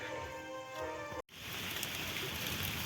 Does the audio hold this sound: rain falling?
yes